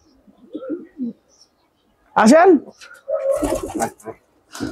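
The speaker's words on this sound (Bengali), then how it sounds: "এই বাসায় সব হইলো ফেন্সি কবুতর।" Fancy pigeons in a loft give short, low coos in a couple of separate bursts near the start, followed by nearby human voices talking over and between further faint calls.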